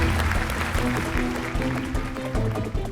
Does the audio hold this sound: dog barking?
no